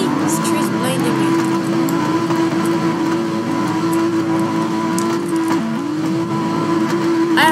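A car in the Redline Drifting video game slides and drifts with a loud, sustained engine whine that rises and falls as it revs, while a player talks over it.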